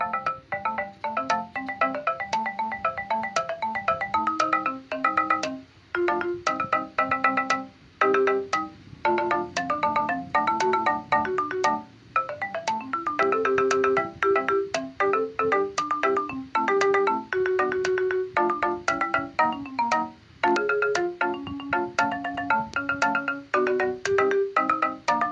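A song built in Chrome Music Lab plays bright synthesized melody notes over a stepping lower bass line, steady and rhythmic throughout with brief gaps between phrases.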